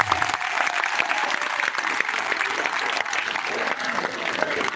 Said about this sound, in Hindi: एक बार जोरदार तालियां हो जाती है